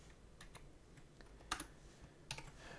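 Faint, close taps on a computer keyboard, a few scattered light keystrokes with brief pauses over quiet background hum.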